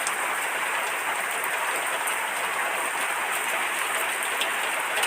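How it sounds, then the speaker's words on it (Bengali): Heavy rain pours down in a steady, unbroken hiss, loud and even throughout with no talking. "দেখো অনেক বৃষ্টি হইতেছে আমাদের দিকে"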